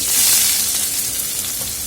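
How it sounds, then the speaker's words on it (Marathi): Crushed garlic cloves and onion hitting well-heated oil in a pan while cooking harbara bhaji, a loud, close, continuous hiss and crackle of frying with slight stirring, no voices. "मी ते दोन लसणाच्या पाकळ्या ठेचून घालते आणि लगेचच आपल्याला हा कांदा घालायचा आहे"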